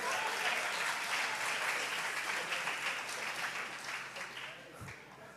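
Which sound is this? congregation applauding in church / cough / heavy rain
congregation applauding in church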